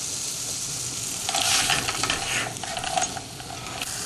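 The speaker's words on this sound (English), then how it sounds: "I'll give that a good stir around for a couple of minutes." Leeks and peas stirred around in melting butter in a pan, giving a soft sizzle with scraping and light clinks of the utensil against the pan in the middle stretch, fairly quiet and steady throughout.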